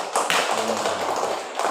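Children in a classroom clap their hands together in a brief burst of close, slightly uneven claps over a roomy background.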